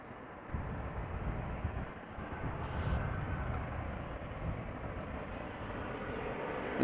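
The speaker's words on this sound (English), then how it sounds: "first up is an Embraer 190 arriving from Berlin" Embraer 190 airliner arriving at Amsterdam Schiphol Airport, a broad steady jet roar heard from a distance, holding constant with a slight swell midway.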